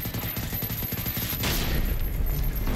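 Sustained automatic gunfire from a player shooting at a machine enemy in the video game Generation Zero, a continuous dense burst of rapid shots that swells louder in the second half.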